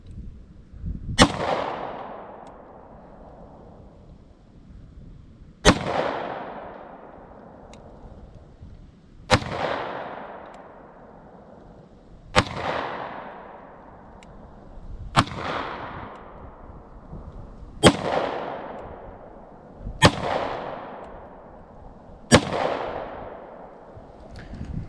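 CZ 52 pistol fired at a steel spinner target, eight sharp shots spaced a few seconds apart, each with a long booming echo tail outdoors.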